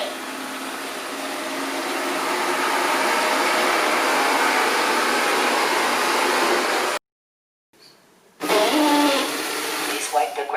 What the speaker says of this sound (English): the robot vacuum cleaner has good suction power